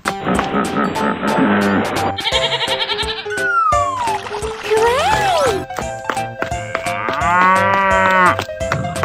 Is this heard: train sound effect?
no